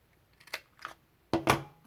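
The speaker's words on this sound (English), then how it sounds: "I want to use my corner rounder" Corner rounder punch cutting the corners of kraft paper, making a few short, sharp clicks and snips, with two faint ones first and then a louder close pair.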